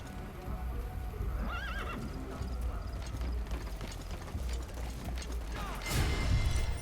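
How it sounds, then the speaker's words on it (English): A horse neighs twice in Metal Gear Solid V: The Phantom Pain, a short whinny early on and a louder one near the end, over clip-clop hooves and low game ambience. "Yes, Horsey, I hear you."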